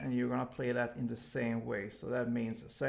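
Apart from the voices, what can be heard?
None of the usual background noises is heard.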